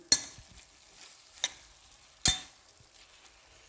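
Chopped tomatoes stirred in a cooking pot for a bean-in-oil dish: a few sharp scraping knocks of the spoon against the pot at uneven intervals over a faint low sizzle, close and otherwise quiet.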